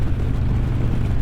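Harley-Davidson Road King Special motorcycle engine while riding, a loud continuous low rumble with wind noise, steady and close throughout.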